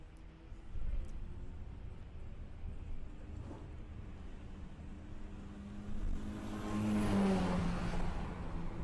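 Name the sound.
VW Passat drag racing run at Santa Pod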